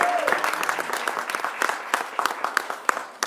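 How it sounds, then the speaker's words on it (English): Audience applause fills a room at a New York governor's announcement on organized retail theft, steady dense clapping with sharper individual claps standing out throughout. "applause"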